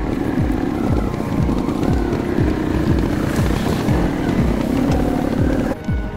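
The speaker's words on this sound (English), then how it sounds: "Essentially, it's the Sherco 290 Trials engine dropped into a frame that" A Sherco X-Ride hybrid enduro motorcycle with a Sherco 290 trials engine revs steadily and loudly close by, with repeated throttle swells and drops across the whole stretch, and no voices.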